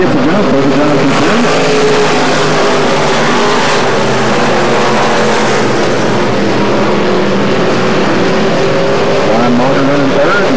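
At Atomic Motor Speedway, a pack of race cars thunders around the track, engines blaring loud and unbroken with shifting whines as they pass, while a voice speaks faintly under the roar.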